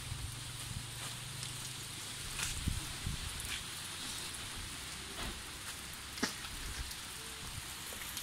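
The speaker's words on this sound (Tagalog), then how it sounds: "baskog ang ano di ulan" Heavy rain pours down steadily as a dense, continuous hiss, with occasional louder drips and patters on nearby surfaces and no talk.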